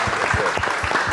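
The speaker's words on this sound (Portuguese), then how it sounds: "uma salva de palmas" Applause from a studio audience on a Portuguese-language afternoon TV show, a short dense burst of clapping with a rhythmic, beat-like pulse running through it.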